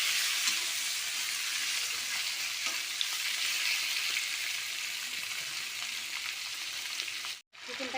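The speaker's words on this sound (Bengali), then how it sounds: "চিকেনটাকে ভেজে নিয়েছি" Chicken sizzles steadily with onions frying in mustard oil, a dense continuous crackle with occasional stirring, close and fairly loud, cutting off briefly near the end.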